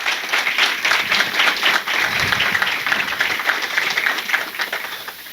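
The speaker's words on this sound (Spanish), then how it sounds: "yo pido un fuertísimo aplauso para el" Audience applause at a book launch of Dominican poetry, a dense, strong burst of clapping from a sizable crowd lasting several seconds and easing slightly toward the end.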